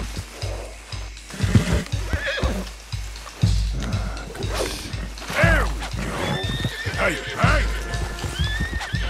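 Repeated horse whinnies and snorts ring out over hoof clip-clops in Red Dead Redemption 2, with someone talking in German throughout, all in a busy, game-like soundscape.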